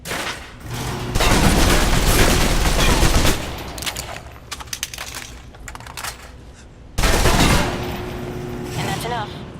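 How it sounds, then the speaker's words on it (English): Submachine gun bursts from the video game Alpha Protocol, fired in close quarters: two long, loud sustained volleys separated by scattered shots and clatter, with no voices. "If you're trapped in close quarters with multiple opponents, the SMGs can help clear the room quickly."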